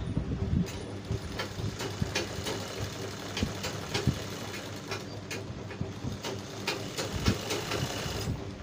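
Sewing machine stitching safari suit fabric, a steady mechanical whir with rapid repeated stitch clicks running continuously up close, no talking.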